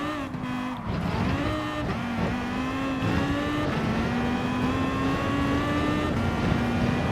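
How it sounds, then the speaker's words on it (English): Vision Gran Turismo race cars in Gran Turismo Sport, a loud close engine drone with rising and shifting pitch as cars rev and accelerate, steady throughout with no talk. "Passing a lot more Vision Gran Turismo cars as I thought I would be"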